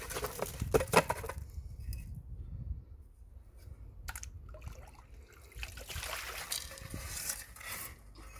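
Leftover wet materials and sludge are dumped into a metal pan, giving an irregular mix of clatter, splashing and trickling water at close range, with quieter gaps between pours.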